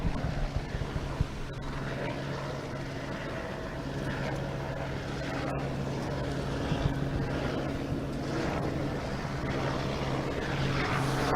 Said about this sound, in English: Helicopters continue to circle above us.